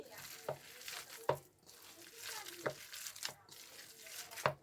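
Cabbage pakora batter being mixed by hand with a little water, soft wet squelching and stirring with a few sharper taps at intervals, close and quiet.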